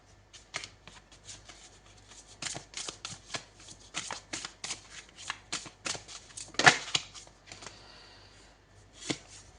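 Oracle cards being shuffled for a reading: crisp, close riffling bursts in an irregular rhythm, quiet, with short pauses between handfuls and no voices.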